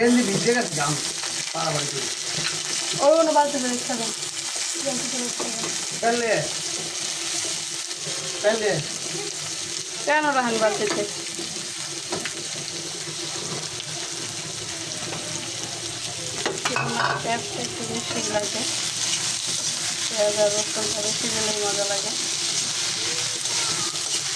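Dried fish goes into hot oil for a spicy shutki bhuna and fries with a loud, continuous sizzle and some stirring, while a person talks intermittently over it.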